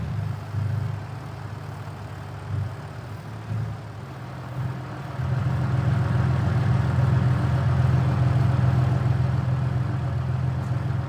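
A tractor engine runs at a steady low idle with a deep droning hum, growing louder and fuller midway as the engine picks up.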